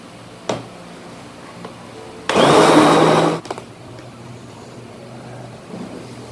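A blender whirs in a roughly one-second burst while blending egg white juice with a little added water, loud and steady before cutting off to quiet room sound.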